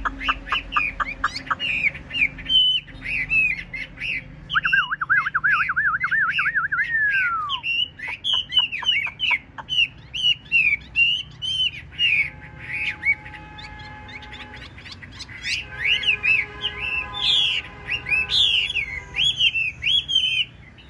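A young hwamei songbird, white-winged with a stiff fanned tail, sings loudly and continuously in varied phrases of rich whistles, trills and chirps, close up with no talk.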